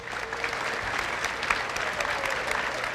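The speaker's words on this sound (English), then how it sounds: "Give all these seniors a round of applause." A crowd claps steadily in a school gym for graduating seniors, dense continuous applause with a faint voice underneath.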